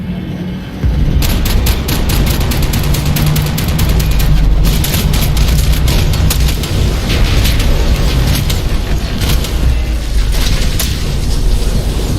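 Heavy gunfire in the video game Max Payne 3: loud, rapid overlapping shots and booming blasts, nearly continuous over a low rumbling bed, no talk heard.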